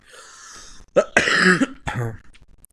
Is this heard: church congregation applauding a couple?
no